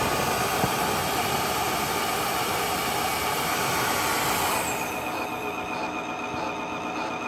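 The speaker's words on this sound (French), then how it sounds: "Démarrer l'auto-nettoyage. Et voilà. Et en fait, il est en train de nettoyer la brosse." Wet floor cleaner running its brush self-cleaning cycle: a steady loud whirring motor drone with a continuous high hiss, shifting slightly lower in tone partway through and carrying on without pause.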